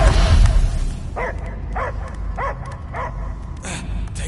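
A dog in the Guardians of the Galaxy game gives a series of about six evenly spaced barks over a low rumbling game backdrop, moderately loud and nearby.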